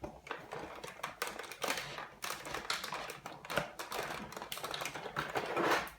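A die cutting machine runs a die with stitched relief through card for a daisy design, giving a steady, moderately loud rolling and crunching mechanical noise with rapid clicky texture, alone with no talking over it.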